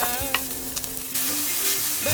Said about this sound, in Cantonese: 用乾炒嘅方式控乾梅菜嘅水分，逼出梅菜嘅香味